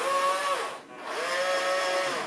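The small electric motor of a Huina toy fire truck's turret whirs steadily as it rotates, a thin whining hum that dips briefly in the middle and then resumes, close and without talk.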